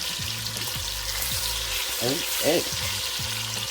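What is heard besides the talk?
chicken, shrimp and andouille sausage lightly browning in a pan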